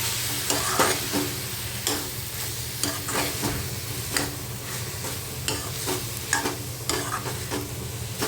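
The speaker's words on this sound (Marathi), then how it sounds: "याच्यामध्ये हिरवं वाटण जे आपण तयार केलेलं ते घालायचं आहे आणि हे सगळं मिक्स करून घेऊया" A spoon stirs green masala paste through sizzling vegetables, brinjal and potato with dried shrimp, in a hot pan. Steady frying crackle runs throughout, broken by repeated close scraping stir strokes, with no talking.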